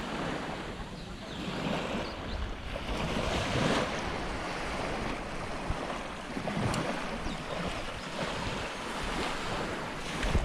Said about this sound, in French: Voilà la plage. Elle est vraiment très belle.